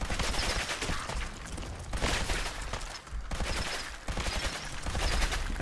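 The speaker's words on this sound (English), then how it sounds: "It's a automatic laser shotgun, and it's ridiculous." An automatic laser shotgun fires continuously in the video game Fallout 4. Dense, rapid bursts of blasts roll on without pause for several seconds, loud and steady, with brief lulls between volleys.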